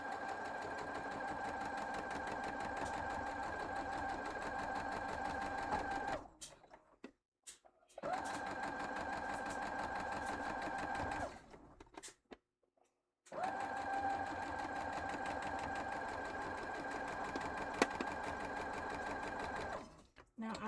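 Sewing machine stitching quilt block pieces together: a steady, close mechanical whirring hum that runs in three long bursts with brief pauses between them.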